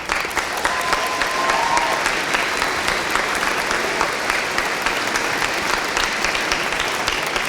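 A large audience applauds new National Technical Honor Society members at an induction ceremony, a loud, dense, sustained wash of clapping filling the hall from start to finish.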